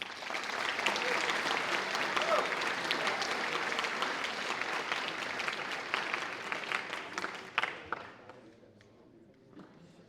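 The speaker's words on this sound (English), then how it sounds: "So they deserve a big round of applause." A senior class night audience gives a sustained round of applause in a large hall, the clapping steady and full before tapering off into scattered claps and quiet.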